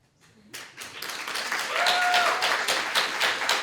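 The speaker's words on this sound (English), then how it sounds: "Everyone give a big round of applause to our Executive Vice President candidates." Applause builds from a few claps into steady clapping from a student audience for Executive Vice President candidates at a campus debate night, with a brief whistle-like tone in the middle.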